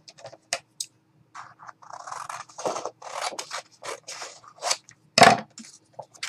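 Scissors snipping through paper while assembling a paper bag pocket and shaker craft, a run of short, close, crisp cuts repeating irregularly over several seconds, with no voices.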